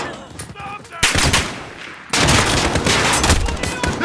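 Loud bursts of rapid automatic gunfire in the Call of Duty Modern Warfare campaign, with two heavy volleys separated by a brief pause and no talk over them.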